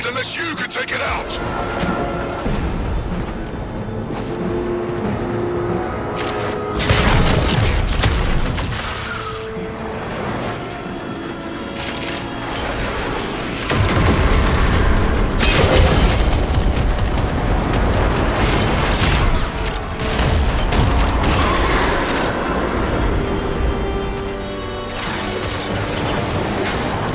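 Enemy cannon fire and explosions in Warframe, with dense continuous crashing booms and impacts, several louder surges of blasts, mixed with game noise under frequent talk.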